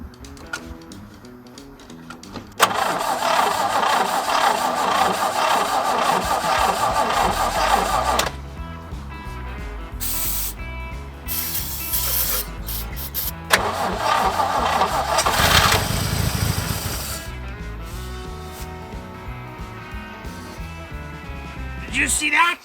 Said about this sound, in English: Just gonna spin it and see if it starts, eh?